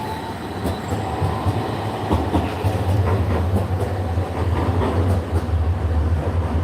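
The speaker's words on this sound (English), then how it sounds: "we're going to get photobombed by a tram here" A Lothian tram in Edinburgh rumbles past close by, steady low rolling noise with faint rhythmic clicks of wheels on rails and occasional squeals.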